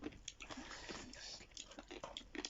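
Crunchy pickles chewed close to the mic during a meat-and-pickle eating session, giving a steady run of soft crunching and wet squishing bites, faint and intimate, with no speech over it.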